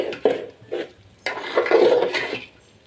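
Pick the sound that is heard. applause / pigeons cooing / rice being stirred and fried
rice being stirred and fried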